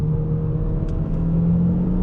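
Inside an Opel Insignia 1.6 Turbo with 180 hp, the engine drones at a steady low pitch while the ESP cuts the throttle, a constant cabin hum with no revving peaks.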